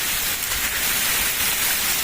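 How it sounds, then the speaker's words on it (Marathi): Heavy rain falls on the trek toward Kalsubai fort as a dense, continuous close hiss of downpour with no pauses. No voices are heard. "पाऊस आहे या ठिकाणी."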